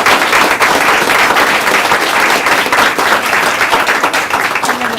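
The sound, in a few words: round of applause at county board meeting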